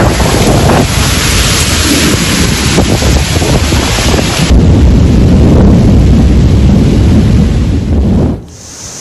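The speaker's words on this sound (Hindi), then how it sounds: "बारिश और आंधी का कहर देखने को मिला दिल्ली एनसीआर में।" Storm winds and heavy rain lash Delhi NCR in a loud, continuous roar of gusting wind and pouring water with buffeting on the microphone, steady for about eight seconds before cutting abruptly quieter.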